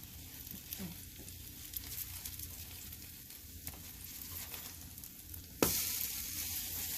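Cinnamon French toast frying in a pan sizzles steadily and close, swelling into a louder, brighter hiss near the end as the slices are moved.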